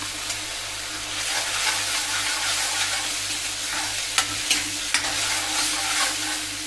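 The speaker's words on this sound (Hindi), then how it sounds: "अब जरा देर मैं टमाटर को भून लेती हूँ और ये नमक डाल देती हूँ।" Tomatoes with salt roasting in a pan, a steady close sizzle with a few sharp clicks of stirring near the end.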